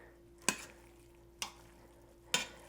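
A spoon scrapes through collard greens cooked with bacon in an Instant Pot, three separate short stirring swishes spaced about a second apart, close and quiet over a faint steady hum.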